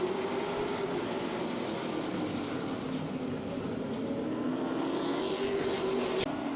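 A field of race cars at Riverhead Raceway accelerates hard on a restart, a broad continuous engine roar with a rising pitched whine holding steady at moderate distance, sustained throughout without speech.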